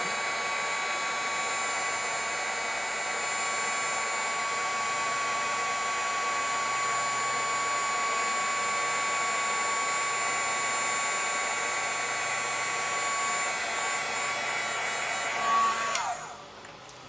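A heat tool blows hot air over a watercolour project, making a loud, steady whirring rush that holds for many seconds and then cuts off near the end.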